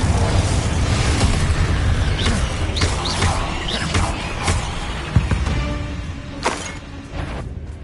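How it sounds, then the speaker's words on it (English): Repeated blasts of the Confringo explosive spell in Hogwarts Legacy, a series of sharp bursts and booms over rumbling combat noise, with a few quieter pops toward the end. "Confringo!"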